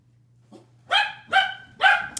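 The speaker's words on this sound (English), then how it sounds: "And there goes the dogs." A dog gives three loud, evenly spaced barks nearby after a faint yip, with a low steady hum underneath.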